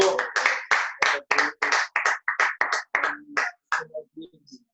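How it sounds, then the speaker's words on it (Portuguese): Sharp, evenly spaced hand claps ring out in a church service, a measured beat of about a dozen loud claps that tapers off and gives way to a few faint scattered sounds at the end. "Aplauda o Senhor"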